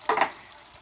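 Mixed vegetables from a can being stirred in a pan for picadillo, a short scraping stir with faint sizzling that fades after the first moments, heard close with no voices.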